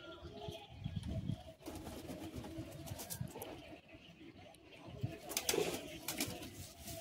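Madrasi high-flying pigeons in a loft give low rolling coos on and off at close range, faint overall, mixed with light shuffling and a few brief chirps.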